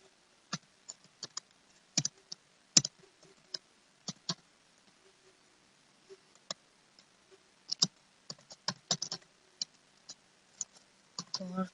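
HTML code is being typed on a computer keyboard in sparse, irregular bursts of sharp, close clicks, some single and some in quick clusters, against a quiet background.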